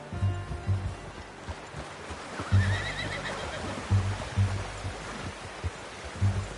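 A horse in Red Dead Redemption 2 neighs in a long, rising whinny over a bed of rain-like noise and low rhythmic thuds, fairly close and loud.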